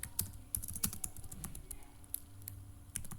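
Close, crisp clicking of a computer keyboard as C++ code is typed, with irregular bursts of keystrokes and short pauses, no voices.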